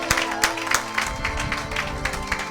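Congregation in a French-language church service applauding, a burst of many hands clapping in quick irregular rhythm with some cheering, moderately loud and close.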